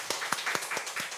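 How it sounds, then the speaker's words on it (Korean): A church congregation claps together during a Sunday worship service, a brief round of faint, fairly steady hand claps with a few sharper accents. "영광의 박수 한번 같이 올려드리겠습니다"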